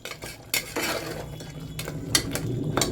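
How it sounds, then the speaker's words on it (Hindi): A spoon scrapes and clinks against a pan as turmeric, coriander, chili and salt are stirred, giving irregular metallic taps and scrapes over a faint background hiss. "इसको हम चलाएंगे, थोड़ी देर मिक्स कर लेंगे।"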